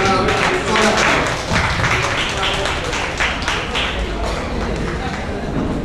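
A crowd claps steadily in welcome at the 91st foundation day ceremony of the Vishwakarma temple in Jatashankar. The dense, continuous applause fills the space at moderate loudness, with a faint murmur of voices underneath.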